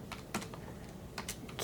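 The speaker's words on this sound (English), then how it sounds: "Next up, we have this Logitech keyboard. So let's go ahead and get started typing that in." Typing on a Logitech K350 computer keyboard: a few scattered, crisp keystroke clicks in short bursts, close and fairly quiet, with no talking.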